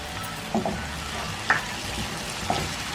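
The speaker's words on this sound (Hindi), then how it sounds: "अब हम इसमें अदरक लहसुन डाल देंगे" Continuous oily sizzle of ginger and garlic frying with browned onions, with occasional soft utensil taps and scrapes as the pan is stirred, no voices.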